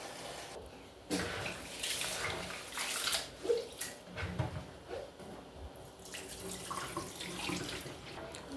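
Tap water running while beans and rice are washed for Haitian rice and black beans, a steady splashing stream with shifting sloshes and clatters, fairly close and continuous.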